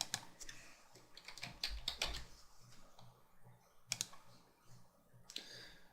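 A computer keyboard is typed on in scattered clusters of crisp clicks, quiet and close, with pauses between the bursts and no one talking.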